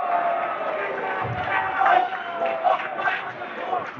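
Crowd murmur and chatter fills a packed gym at a high school boys basketball game between Notre Dame Prep and Kolbe Cathedral in Connecticut, a steady din with faint thumps and occasional louder swells.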